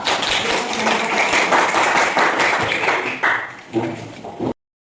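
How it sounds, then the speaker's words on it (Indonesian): A class of students claps together in a classroom, a dense, steady burst of many hands lasting several seconds before it thins into a few scattered claps and stops. "tepuk tangan untuk kalian semua"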